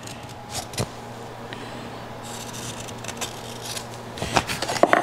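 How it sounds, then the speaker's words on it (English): A chisel shaving a small chamfer on the edge of a wooden chisel rack for a tool storage cabinet, quiet rasping scrapes in short strokes that grow busier and louder toward the end. "cut a little chamfer"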